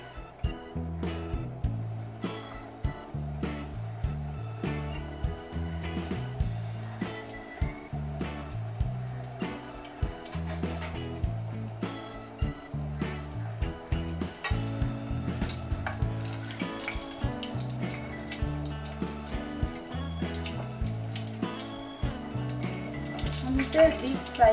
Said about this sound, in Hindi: ब्रेड फ्राई कर लेंगे